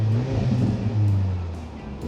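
A Mercedes-AMG C43 station wagon (W206) with a four-cylinder engine gives a short, full-bodied rev, heard up close as a steady low drone that swells and then eases off.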